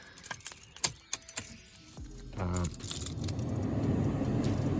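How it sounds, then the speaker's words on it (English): A key jingles and slides into the ignition of a BMW E60, with a few light metallic clicks and rattles up close before a low steady hum from the car takes over. "So it goes off. Stick the key in."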